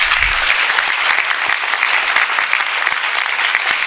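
Audience at a life-goals seminar claps, a thick, continuous burst of many hands applauding together, loud and sustained for the whole stretch.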